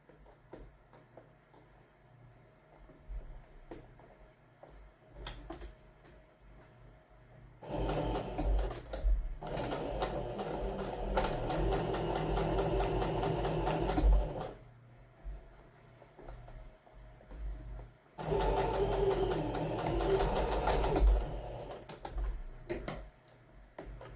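A sewing machine stitches a folded one-panel pillow in two loud running bursts separated by quieter handling noise and faint clicks, with no talking.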